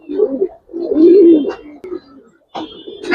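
Lal Dom pigeons, a red-tailed Giribaz high-flyer breed, cooing in several soft, low, throaty bursts close by, with short gaps between calls.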